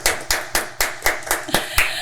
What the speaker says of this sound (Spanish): Un aplauso, señores, para ella.